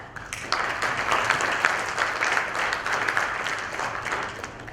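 An audience at a Glocal Teen Hero 2016 event breaks into dense, steady applause, many hands clapping together at moderate volume for several seconds, with no one speaking over it.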